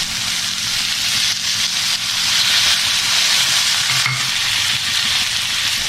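Carrots tossed into a frying pan for masala Maggi sizzle steadily with a loud, close hiss, broken by the scrape of stirring throughout.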